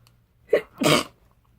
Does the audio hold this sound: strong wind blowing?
no